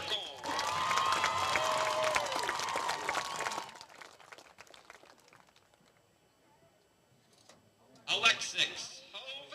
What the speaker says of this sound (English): Round of applause for Izzy Habercorn.